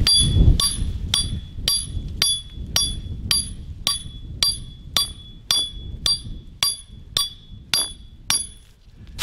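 Steady metal-on-metal hammer blows drive a coyote trap anchor into mountain ground, about fourteen sharp ringing strikes in an even rhythm, close and loud with no talking.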